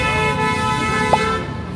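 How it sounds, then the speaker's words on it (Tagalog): Car horns toot on a busy street in Hongdae, Seoul, with one short honk standing out above a steady wash of traffic and crowd noise. "Ingay, busina-busina na sila dito."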